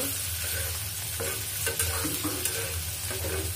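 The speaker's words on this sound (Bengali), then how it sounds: "এই যে পেঁয়াজ কুচি দিয়ে দিলাম। এখন এটাকে একটু নেড়ে নেব।" Goat brain frying in a pan with chopped onion and garlic as it is stirred, a steady close sizzle with scraping stirring strokes and no talk.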